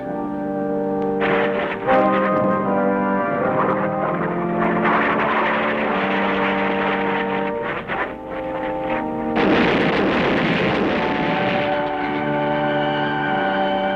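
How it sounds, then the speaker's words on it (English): A World War II warplane dives and breaks apart in an explosion off Okinawa, heard in archival combat footage as a loud, sustained roar of engine and blast noise. Dramatic orchestral music swells over it throughout. "A plane dives toward destiny, disintegrates in explosive agony."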